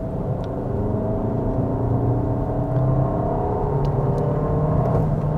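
Engine of a CUPRA Terramar eTSI accelerating as heard from inside the car, a loud rising droning whine with steady low rumble, building smoothly over several seconds.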